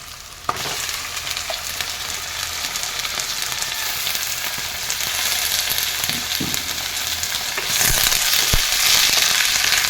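Chicken pieces dropped into sizzling spice paste in a pan, a sharp thump followed by a continuous loud crackling fry that swells toward the end, with occasional stirring knocks and no speech.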